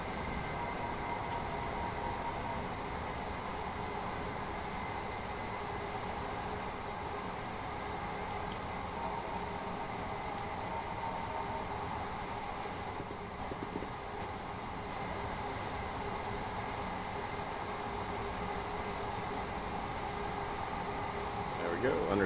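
A train coasts on the East Coastway line in Train Sim World 2020, giving a continuous rumbling whir with a faint hiss that holds steady for a long stretch.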